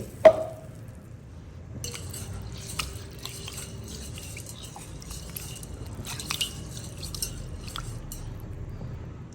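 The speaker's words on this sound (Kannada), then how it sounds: "ಈ ಅಕ್ಕಿಗೆ ಎರಡು ಮೂರು ಸರಿ ನೀರು ಹಾಕೊಂಡ್ಬಿಟ್ಟು ಚೆನ್ನಾಗಿ ಇದನ್ನು ತೊಳ್ಕೊಳ್ತೀನಿ" Dosa rice is rinsed in water in a bowl, opening with a sharp clink, then soft wet swishing, squishing and trickling drips that come and go quietly and close by for several seconds, without speech.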